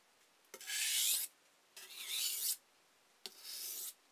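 A kitchen knife scrapes across a sharpening stone in three separate strokes, each a close, even, gritty rasp lasting under a second with short quiet gaps between them.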